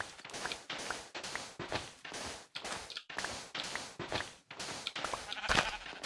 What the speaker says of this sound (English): Hello there, sheep.